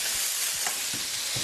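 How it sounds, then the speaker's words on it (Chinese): Salted cured pork stir-fried in a wok sizzles loudly and steadily, with soft scraping stirs recurring through the sizzle and no talk over it. "炒菜。"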